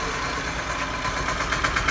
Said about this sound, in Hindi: और एक ट्रैक्टर जा रहा है